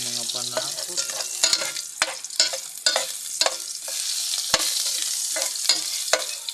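Aromatics sautéing in a pan, a bright crackling sizzle broken by repeated sharp scraping strokes of a spatula, close and fairly loud with no speech.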